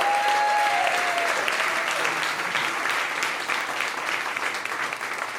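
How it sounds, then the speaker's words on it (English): A literary event audience applauds steadily in a dense, even wash of clapping that fills the whole stretch, with a voice briefly audible near the start. "if we can just do a round of applause for House of SpeakEasy"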